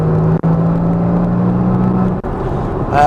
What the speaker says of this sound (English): that's just an introduction to the sound of the car